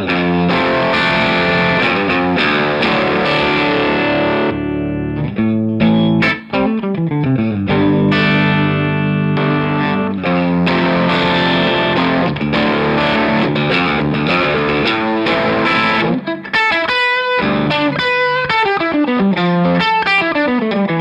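A distorted electric guitar played through a Stumpbox fuzz pedal plays continuous chords and riffs with a thick, fuzzy overdriven tone, loud and unbroken throughout.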